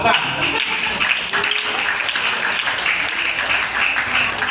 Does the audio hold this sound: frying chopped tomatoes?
no